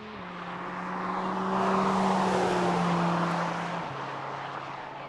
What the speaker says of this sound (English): It opens up the exhaust, adds extra urgency to the throttle mapping, and allows sharp percussive blips on downshifts.